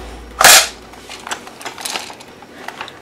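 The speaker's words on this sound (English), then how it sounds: "This gun also comes with ammo. It's airsoft ammo." An airsoft gun fires one sharp, loud snap near the start, followed by fainter scattered clicks and taps at close range.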